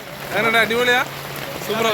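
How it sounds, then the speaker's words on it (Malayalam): A steady hiss of rain falls throughout at Banasura Sagar Dam in Wayanad while a voice speaks over it in short bursts. "മഴ ഉണ്ടാ മഴ ഉണ്ടാ സൂപ്പറായാ മഴ"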